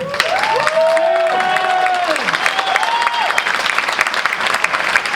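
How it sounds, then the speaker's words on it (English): Steady applause from an audience at a school spring band concert in Cape Coral, sustained clapping with some cheering, while a voice speaks over it early on. "Round of applause for that."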